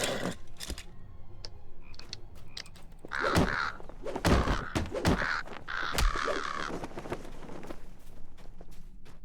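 A bird in the game LOTRO caws repeatedly, loud harsh calls breaking out in an irregular series over soft clicks and thumps.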